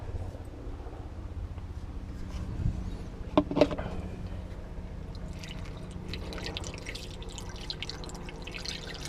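Distilled water trickles through a funnel into RV batteries, a soft steady dripping and pouring close by with low background hum, faint at times.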